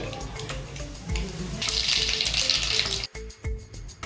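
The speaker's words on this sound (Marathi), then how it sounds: "पाव चमचा राई टाकते" Mustard seeds crackle and sizzle in hot oil in a kadhai already used for roasting gram flour, for a Maharashtrian dry zunka; a steady loud frying hiss swells midway, then breaks into sharp pops near the end.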